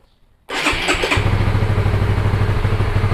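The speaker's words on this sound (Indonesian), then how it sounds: "Sekarang kita coba nyalakan mesinnya." A 2021 Honda Supra GTR motorcycle engine starts after a short starter whir and settles into a steady, close, slightly clattery idle.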